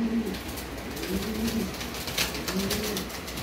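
Red Lahori show pigeons on a farm give low, soft cooing calls in repeated rounds, heard close over steady background noise with no speech.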